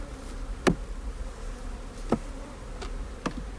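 Honey bees buzz in a steady drone at a hive on a honey farm while it is smoked during an inspection, with a few sharp clicks and taps standing out over the hum.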